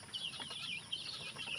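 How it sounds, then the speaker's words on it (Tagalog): Rooster on a small farm at feeding time, clucking and calling in short repeated bursts with some wing flapping, close and steady over light background noise. "ito atong tandang"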